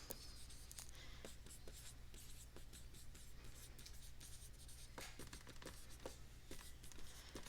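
A pen or marker scratches steadily across a writing surface while a logarithmic equation is written out, a continuous run of small strokes and taps close by, with no one speaking.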